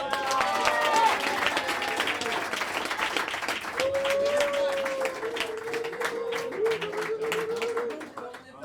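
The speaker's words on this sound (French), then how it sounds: "On l'applaudit" Audience applause and clapping from a crowd at a French game show taping, loud and steady, with a voice talking over it partway through.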